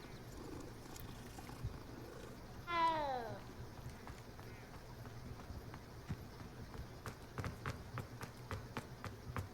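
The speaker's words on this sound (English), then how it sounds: "Oh, that kitty." A cat gives a single short, clear meow in the Hogwarts Legacy video game, set against quiet ambient background, followed by soft footstep-like taps.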